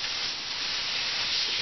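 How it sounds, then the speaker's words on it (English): A roast searing in a hot pan gives a steady, broad sizzling hiss, close and continuous, with no talk over it. "hear that sizzling. If it's not sizzling,"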